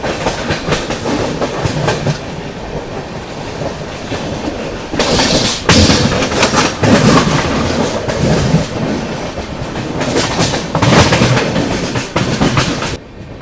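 The Chennai Express rolls into Kalyan Junction with a loud, close rumble and a rhythmic clickety-clack of wheels over rail joints, swelling in bursts as the coaches pass and brakes faintly squeal, with no voices.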